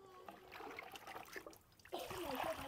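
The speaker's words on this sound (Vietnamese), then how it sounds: "đem ra ngoài xả nước lạnh nha, cho nó nguội" Cold tap water runs over boiled bamboo shoots to cool them, a trickling splash that grows louder and fuller partway through, with faint voice-like sounds mixed in.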